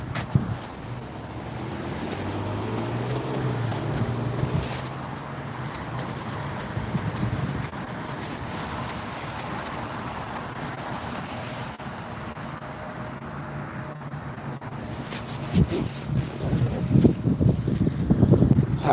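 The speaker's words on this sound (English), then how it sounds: "Windy out here." Gusty wind blows steadily into the microphone outdoors at Los Angeles International Airport. A low rumble builds toward the end with heavier buffeting, and there is no speech.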